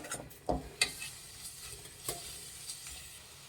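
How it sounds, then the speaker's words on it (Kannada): Garlic tempering sizzles softly in a pan for a leafy greens saaru, a faint, steady frying hiss broken by several sharp spoon clicks and scrapes against the metal. "ಬೆಳ್ಳುಳ್ಳಿ ಒಗ್ಗರಣೆ ಕೊಟ್ಟಿದ್ದೀನಿ"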